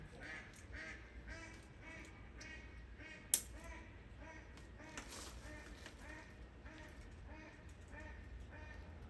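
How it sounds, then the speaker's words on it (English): Ducks quack repeatedly in steady bursts outdoors near a balcony during fall bonsai work on bald cypress, with people talking over them. "the ducks are going on"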